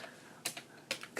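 Three quick bursts of keystrokes on a computer keyboard, close and quiet, with short gaps between them while a search is typed.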